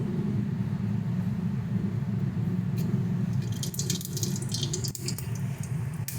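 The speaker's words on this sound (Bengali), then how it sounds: "তেলটা গরম হয়ে গেছে এবার এর মধ্যে আমরা জিরে পোড়ন দিয়ে দিচ্ছি" Cumin seeds hit hot oil for a Bengali aloo posto and sizzle in a steady broadband hiss, with sharper crackling bursts spattering through the second half.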